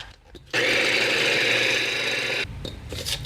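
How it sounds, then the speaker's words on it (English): A blender whirs through a chicken bun batter with egg and baking powder, a loud, even, close roar lasting about two seconds before cutting off abruptly. "Let's give her a blend."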